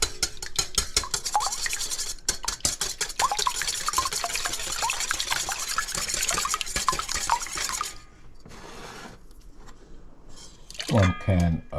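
Four whole eggs and two yolks beaten briskly in a bowl for flan, giving a fast run of close clicking, tapping strokes for about eight seconds before easing into quieter scraping, with a short burst of clatter at the end.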